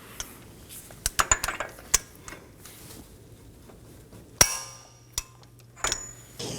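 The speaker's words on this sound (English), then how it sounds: "Now let's torque it down to 135 foot-pounds." Wrench work on the front axle nut of a 2015-2023 Nissan Maxima during a wheel bearing and hub replacement: sharp metallic clicks and clanks in scattered bursts, close and fairly loud, with no talking.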